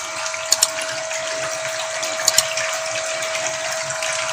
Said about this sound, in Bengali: পানির শব্দটা শুনতে পারবেন।